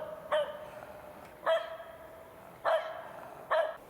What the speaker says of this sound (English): and a noisy dog.